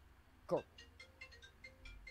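A phone ringtone plays faintly from across a room as a call comes in, a short series of evenly spaced electronic chimes following a louder sound at the start.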